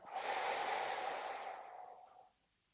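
One slow, breathy exhalation during a seated exercise, close and soft, fading out over about two seconds with no talk.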